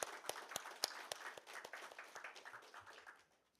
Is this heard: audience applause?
yes